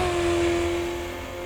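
A classic supercar in the Assetto Corsa EVO racing game burbles at a steady rev, with a constant whirring engine tone that fades slightly toward the end and carries no speech.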